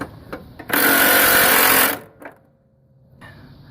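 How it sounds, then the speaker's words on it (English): A single loud, harsh burst of about one second from an impact driver on a 5/16 or 16mm belt bolt of a Troybilt Pony mower, with light clanks just before and after. "I'm going to use my impact."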